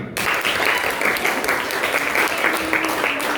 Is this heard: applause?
yes